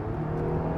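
A third-generation Toyota Avalon accelerating hard on a damp road, with a brief, steady engine drone and whir heard from inside the car.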